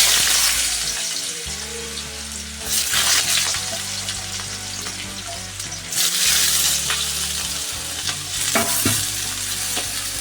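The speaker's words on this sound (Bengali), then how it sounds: "এবার এই গরম তেলের মধ্যে আমি আলুগুলিকে দিয়ে দেবো" Potatoes dropped into hot oil sizzle loudly and steadily in a pan, a dense continuous frying hiss with occasional stirring scrapes and a low background hum, close by and with no talking.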